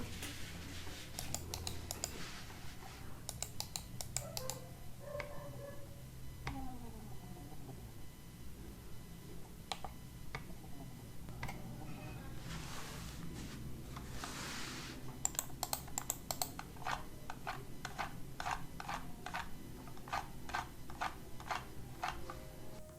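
Faint clicking and ratcheting of a mouse scroll wheel, quiet bursts of rapid ticks alternating with near-silent spinning of a Logitech MX Master 3's wheel.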